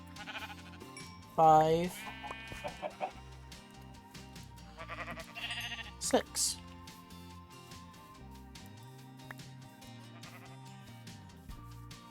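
Sheep bleating in the Minecraft modpack GregTech New Horizons, a few short game bleats over a quiet in-game ambience while a man counts aloud.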